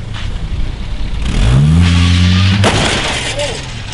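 A car's engine revs loudly and rises in pitch during a clumsy parking manoeuvre, the strained roar holding for a couple of seconds before easing off, with people talking nearby.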